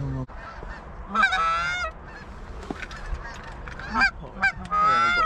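Canada geese honk repeatedly nearby, loud overlapping calls coming in bursts against an open outdoor background.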